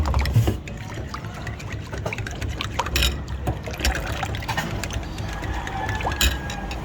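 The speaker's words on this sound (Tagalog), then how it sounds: "Banlawan natin ng tubig guys." Water runs and splashes over apple seeds being rinsed by hand in a kitchen, a steady close trickle with clinks and rattles throughout and no talking.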